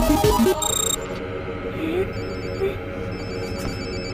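A telephone rings with a short burst of high electronic tones in an animated French cartoon scene, sounding close and clear among music and voices.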